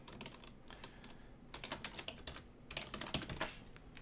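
Keys clatter on a computer keyboard during a game development livestream, fast irregular bursts of clicks that grow busier and louder toward the end, close and with no talking.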